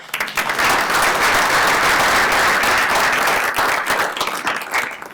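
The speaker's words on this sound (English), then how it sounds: "I'd love to give our staff an applause, and also Alderman Berger for her great work on this." A town hall meeting audience gives a hearty round of applause in a community college room, with loud, sustained clapping that swells quickly and tapers off near the end.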